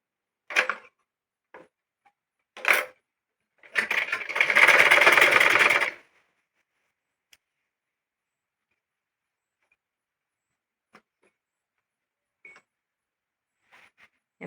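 A sewing machine stitches a petticoat in two short bursts, then a longer run of rapid, close needle chatter lasting about two seconds, followed by near silence with faint ticks.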